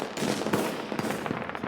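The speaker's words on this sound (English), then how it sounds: "Oh, Mei, look, fireworks!" Fireworks in the video game Honkai burst in a dense, crackling barrage, with sharp pops and bangs overlapping one another throughout at steady loudness.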